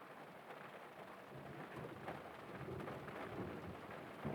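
Heavy rain pours steadily through a stormy night, with low thunder rumbling underneath the broadband downpour and swelling slightly louder toward the end.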